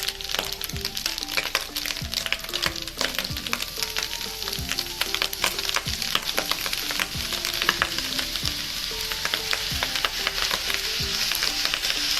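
Soy sauce added to a sizzling pan already seasoned with black pepper, salt and a pinch of sugar, giving a steady intense sizzle with crackling pops and rhythmic, repeated spatula strokes throughout.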